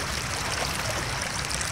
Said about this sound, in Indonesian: itu adalah air yang mengalir melalui bebatuan